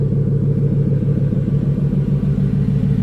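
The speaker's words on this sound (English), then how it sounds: "I guess that's where you get the sounds of that beautiful supercharger" A 2026 Shelby Raptor R pickup's supercharged engine idles steadily after a cold start, a continuous close, loud low rumble with an even throb and no other sounds.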